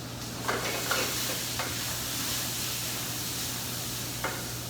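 Salmon pieces fry in a pan with a steady soft sizzle throughout, broken by a few light clicks and taps of stirring or utensil contact, close and fairly quiet with no talking.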